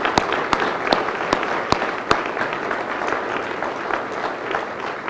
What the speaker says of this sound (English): I'd like to really give a warm round of applause to the fabulous staff here